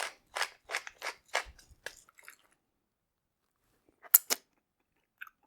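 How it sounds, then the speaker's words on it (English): A handheld pepper grinder crunches out peppercorns in about five quick rhythmic twists, then a short pause before two more sharp grinds, close-up and crisp against silence, while seasoning chicken for a rotisserie chicken wrap. "Couple grinds of pepper."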